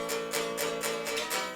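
Recorded guitars from a song play a brief passage of pulsing, evenly repeated strokes with a delay effect carrying each one over, bright and continuous at modest volume, no voices.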